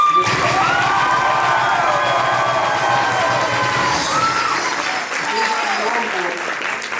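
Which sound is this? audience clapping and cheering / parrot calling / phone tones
audience clapping and cheering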